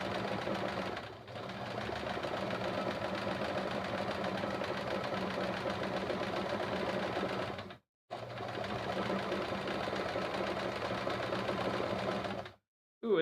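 Sewing machine stitching free motion quilting blocks, a steady fast mechanical hum-and-rattle running continuously, stopping briefly twice before starting again, close and even in level.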